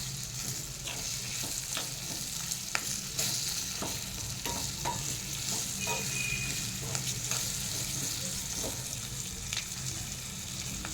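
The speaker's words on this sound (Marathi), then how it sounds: "या मिरच्या लोखंडी कढईतच करायच्या आहे," Green chillies fry in an iron wok, a steady close sizzle broken by frequent light scrapes and taps of the stirring spoon over about eleven seconds, with no voices.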